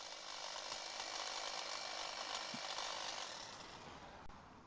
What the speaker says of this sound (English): I've just put it into economy mode, which basically just slows the blade down, makes the battery last a bit longer